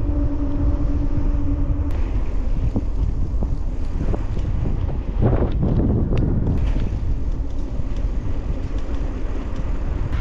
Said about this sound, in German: hier ist natürlich extrem viel Gegenwind